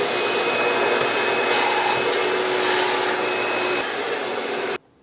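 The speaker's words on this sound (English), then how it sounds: "I'm going to use a vacuum cleaner and vacuum all this up." A vacuum cleaner runs steadily while sucking debris out from around the engine and ignition coils of a 2009-2014 Ford F-150, a loud continuous whine with rushing air that cuts off abruptly near the end.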